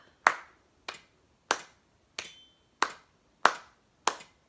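Seven sharp hand claps in a steady beat, roughly one every 0.6 seconds, close and crisp with short decays, keeping time for a preschool percussion lesson; no voices.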